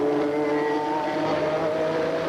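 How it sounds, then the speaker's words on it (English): A loud Mazda GTP race car in a 1986 IMSA Camel GTP race at Portland, its exhaust a continuous droning, strongly tonal engine note heard close and steady. "the Mazdas certainly are loud"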